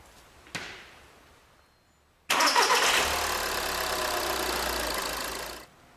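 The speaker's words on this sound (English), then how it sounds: "Next thing we're going to do is actually start the engine" VW Golf 2.0 TDI diesel engine cranking and firing up after a short click, then settling into a steady close idle for a few seconds before cutting off, no talk.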